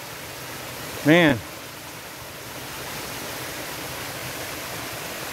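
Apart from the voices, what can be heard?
waterfall in the woods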